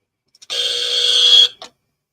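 A debate buzzer sounds once, a loud, harsh, steady electronic buzz lasting about a second, with brief clicks just before and after it and silence around it.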